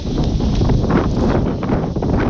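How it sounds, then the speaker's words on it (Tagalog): Strong, steady wind from a storm buffeting the microphone, a continuous loud roar with gusty rumble throughout and no talking. "At malakas na lang hangin dito"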